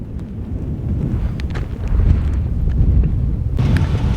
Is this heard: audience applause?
no